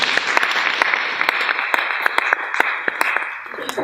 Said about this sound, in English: do a clap offering? Should we do it?